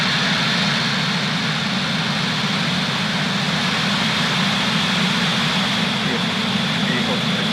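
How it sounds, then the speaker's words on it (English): A SpaceX Falcon rocket lifts off from the Space Coast carrying Starlink satellites, a loud, constant, deep rumbling roar that holds steady throughout with no voices over it. "Engine full power. And liftoff of Starlink."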